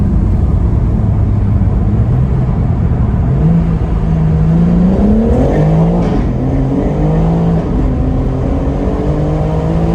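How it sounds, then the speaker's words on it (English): A BMW G82 M4 Competition's 3-litre twin-turbo straight-six revs and accelerates continuously through a tunnel, its droning pitch climbing through gear changes, loud and close throughout. "It's a 3-litre straight 6 twin turbo engine"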